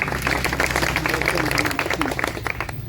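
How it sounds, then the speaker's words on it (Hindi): A crowd at a Bharat Bandh protest rally claps to welcome a speaker, a dense patter of applause with a low steady hum beneath it and voices mixed in. "आप जोरदार तालियों से उनका स्वागत करें।"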